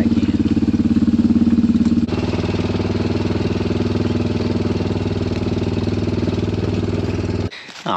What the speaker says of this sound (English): I knew there was a reason I didn't want to drive through that stuff